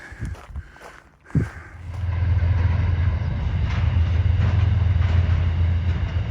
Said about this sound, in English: There's one of those trains I was talking about.